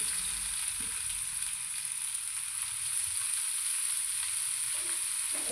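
Chillies, curry leaves, onion and tomato fry in a pan with a continuous soft sizzle and hiss, broken by a few faint scrapes and knocks of stirring, no one speaking.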